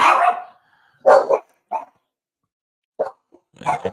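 A dog barks in short bursts, four or five sharp, close barks separated by brief silences.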